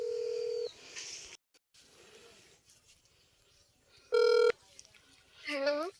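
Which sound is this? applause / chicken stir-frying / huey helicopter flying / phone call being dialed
phone call being dialed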